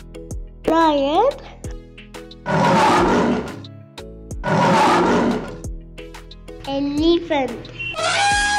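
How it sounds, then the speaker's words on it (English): A lion roars in two long, loud, rough bursts with a pause between them, close and powerful, set among brief higher animal cries and a voice. "Lion."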